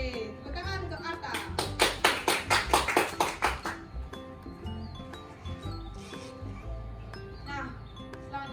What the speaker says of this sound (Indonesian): Oke, tepuk tangan untuk Arta.